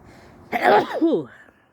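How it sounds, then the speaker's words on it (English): A single sharp sneeze bursts out close by, a quick intake followed by an explosive, breathy release that trails off. "Sneeze, sorry."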